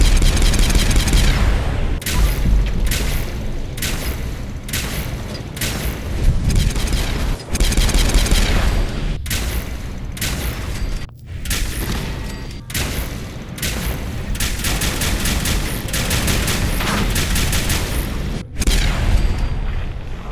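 Zeta gun from Fallout 4 firing on security robots: a loud, dense run of booming energy blasts and impacts that keeps going almost without a break, cut by a few short gaps.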